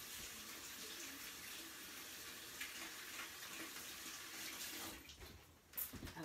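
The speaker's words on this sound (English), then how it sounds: "All right, I'm gonna wash my hands really fast." Tap water running steadily into a sink while hands are washed, a soft even rush that shifts briefly near the end.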